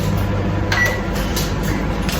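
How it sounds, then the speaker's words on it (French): An empty microwave oven runs with a steady low hum and a few faint clicks and beeps over it, close by and without speech. "Elle lance le micro-ondes à vide."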